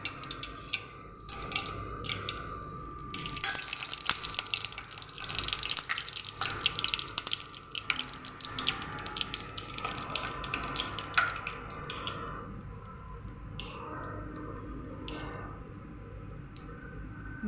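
Mustard seeds splutter and crackle in hot oil while tempering a urad dal tadka, a dense, steady stream of sharp little pops close to the pan with no talking.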